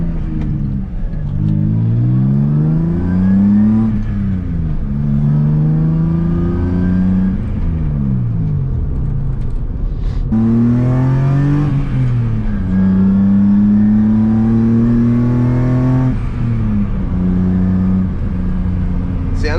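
BMW E30 with a swapped M50 engine pulling hard through the gears, a loud close revving climb repeated in several rising sweeps with brief drops at each shift, heard from inside the car.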